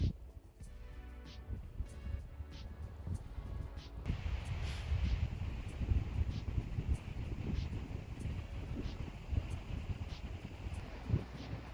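Wind rushes through ponderosa pines at a mountain campsite in the Entiat Mountains, a steady low roar that swells after a quieter start and keeps gusting, with faint scattered clicks and no voices.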